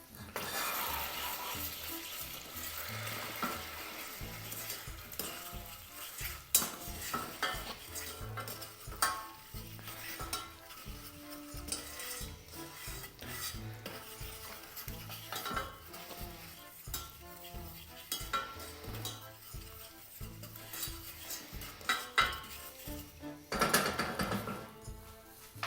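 Sugar caramelizing in butter in a pan while being stirred, a steady scraping and clinking of utensil against pan over a soft continuous sizzle, close and busy throughout.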